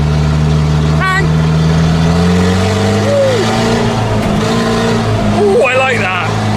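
A farm vehicle's engine revs during a maize harvest, a steady loud drone that climbs in pitch with a brief vocal interjection over it.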